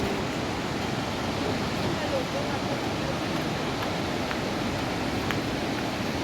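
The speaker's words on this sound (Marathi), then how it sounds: "आणि पाण्याचा प्रवाह बघा, आवाज बघा केवढा आहे." Powerful river torrent far below at Devprayag, where the Alaknanda and Bhagirathi meet in Uttarakhand, roaring as a dense, steady broadband rush with no pauses, loud and constant throughout.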